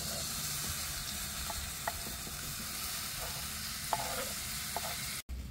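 Garlic and vegetables fry in hot oil in an outdoor ramada kitchen, a steady dense sizzle that continues throughout with a few faint stirring clicks, close and constant, no voices.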